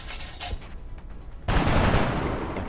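A soldier's shot in XCOM: Enemy Within, with quiet faint pops at first, then a sudden loud burst of gunfire that holds as a dense, sustained roar to the end.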